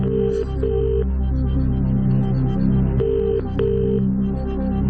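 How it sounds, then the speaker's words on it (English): A telephone rings out on the UK quiz show Who Wants to Be a Millionaire, two pairs of steady electronic rings repeating over a low hum of studio tension music, with no talk. "Let's phone Bruce."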